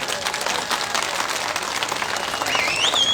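Applause from an audience at a political rally in Chamba, Himachal Pradesh, fills the clip as dense, steady clapping at moderate loudness, with a faint whistle-like tone rising near the end.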